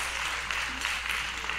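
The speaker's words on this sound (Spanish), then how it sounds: "Un aplauso para ellos." Audience applause at a Cuban music award presentation for a band, a steady dense wash of clapping with no gaps, moderately loud, with no voices over it.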